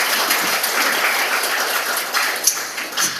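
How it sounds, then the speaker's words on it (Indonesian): Audience applause at a talk show, a steady wash of many hands clapping at moderate loudness throughout, with no voices over it. "terima kasih tepuk tangan buat Bang Ujai."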